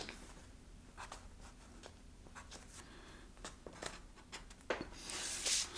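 A pen marks a fold line on foam for a puppet mouth plate, making soft, quiet scratching strokes in short intermittent bursts at close range, with a brief louder rustle near the end.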